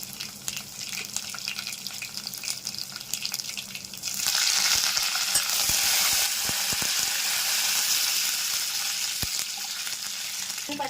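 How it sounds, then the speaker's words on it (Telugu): Tempering seeds, crushed garlic and curry leaves fry in hot oil: a soft crackle first, then a sudden loud hiss as the garlic and leaves hit the pan, with sharp pops and clicks, no talk. "తాలింపు గింజలు కొంచెం వేగిన తర్వాత దంచి పెట్టుకున్న వెల్లుల్లిపాయలు అప్పుడు వేసుకోవాలండి"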